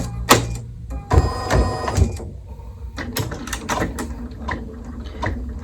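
A Bernina embroidery machine stitching a design at increased speed, giving loud, close mechanical whirring and rapid rhythmic clatter with short pauses between bursts.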